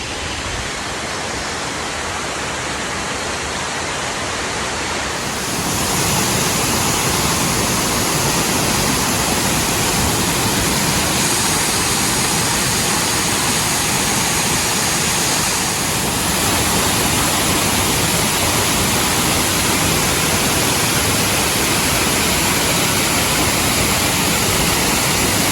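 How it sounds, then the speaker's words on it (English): Waterfalls pour into a small canyon in the Ozarks, a steady, dense roar of rushing water that fills the scene without pause and swells slightly louder after the first few seconds. "Beautiful little canyon and a couple awesome waterfalls."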